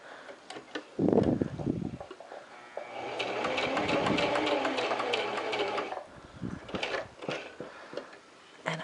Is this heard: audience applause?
no